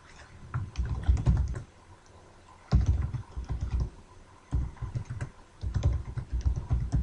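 A computer keyboard is typed on in three or four quick bursts of close, crisp keystrokes separated by short pauses, with no talking.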